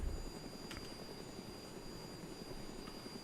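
Aircraft engine held at full throttle in a video game, a steady droning roar with constant high tones running throughout, fairly faint and without talk.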